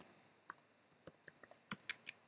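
Computer keyboard typing during an Ubuntu terminal command, a dozen quick scattered key clicks, close and crisp, in a quiet room with no voices.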